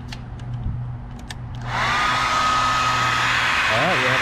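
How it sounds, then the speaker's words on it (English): A blow dryer running on high off a VTOMAN Flash Speed 1500 portable power station switches on after a quiet stretch with a low hum, then blows as a loud, steady, broadband rush that continues to the end. "So let's see if we can run a blow dryer off of this thing."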